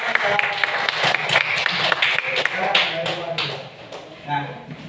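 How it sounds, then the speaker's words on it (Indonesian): Classroom applause for a student group after their presentation, irregular claps mixed with voices and chatter at moderate level throughout. "beri tepuk tangan dulu untuk kelompoknya"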